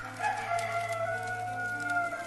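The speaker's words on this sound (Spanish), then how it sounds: "Inmediatamente, mientras aún hablaba, el gallo cantó." A rooster crows once in a long, wavering cock-a-doodle-doo, close and clear over faint farmyard background, with no talking.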